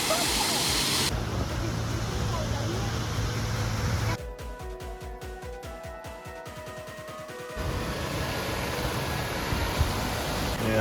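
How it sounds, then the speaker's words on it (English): Inversnaid Falls at Loch Lomond, reached by kayak, roars as a steady broadband rush that drops away in the middle, where a choppy rhythmic noise cuts in, before the loud water returns. "And that's the waterfall."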